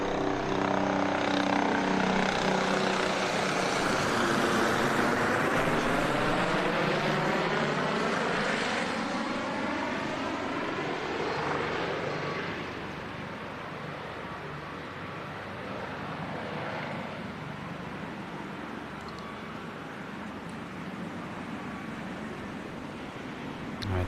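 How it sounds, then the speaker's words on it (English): Fixed-wing aircraft pass low overhead in a memorial-service flyover outside a high school, a broad engine roar that swells loud, then fades gradually into a fainter, lingering drone. "that was the flyover that just took place here outside of Maple Grove High School"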